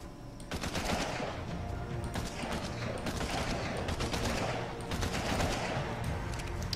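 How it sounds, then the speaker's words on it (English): Rapid bursts of assault rifle fire aimed at a triceratops in ARK: Survival Evolved, loud repeated automatic shots in several volleys with brief pauses, no speech. "Can all of you just die so that I can try my little assault rifle out? Thank you. Right. Let's go ahead and shoot the trike."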